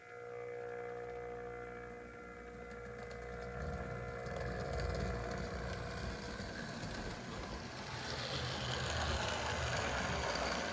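A Hornby/Lima class 20 model diesel locomotive runs around a layout at a fairly decent speed, giving a steady, noisy motor whir and rumble that builds slightly and holds throughout, with no talking.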